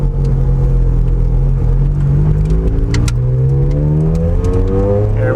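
A 2004 Ferrari Challenge Stradale rolls out of a driveway, its engine a loud, deep, continuous rumble with a gently rising and falling pitch, close by and alone.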